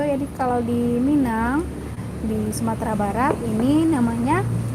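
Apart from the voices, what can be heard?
No distinct noise like a dog, phone or traffic.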